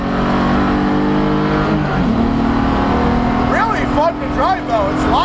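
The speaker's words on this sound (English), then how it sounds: "I'm hitting the rev limiter just there" A BMW E46 330ci built to Spec E46 race trim drives on a track, its engine held high and droning steadily near the rev limiter, with someone talking over it toward the end.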